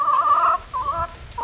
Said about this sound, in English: 13 chickens that he has. It's his egg layers